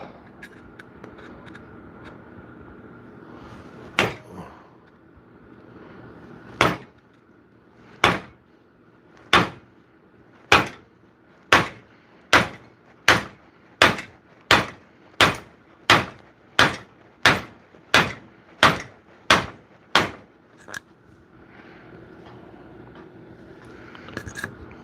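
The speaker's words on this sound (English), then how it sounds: "we can pretty much pound that out without any drilling" Part of an axe is pounded out with about twenty sharp, ringing hammer strikes. A few spaced hits come first, then a quicker, steady run of loud blows before it stops, with no talking.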